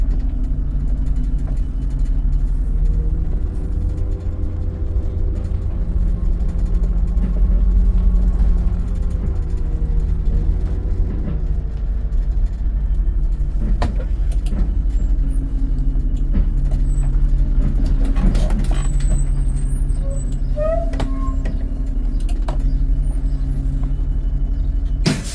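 Small wheelchair bus driving on a field trip, a steady low engine rumble and road drone heard from inside the cabin, with faint rattles and a few brief clicks and squeaks toward the end.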